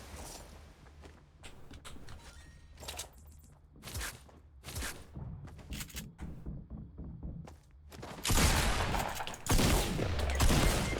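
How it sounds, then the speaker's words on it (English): Shotgun fire in the video game Fortnite, a series of sharp blasts spread through the clip amid footsteps and game noise, growing denser and louder toward the end, no talk. "he got a headshot on the shotgun"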